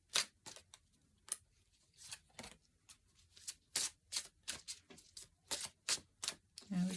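Cards drawn one by one from a deck during a quiet angel-card reading, a series of short crisp slides and flicks in an uneven rhythm, close and fairly soft, with no one talking.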